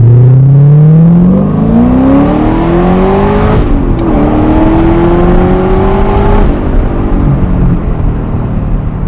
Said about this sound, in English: This is a 550 horsepower supercharged V8 out of the box.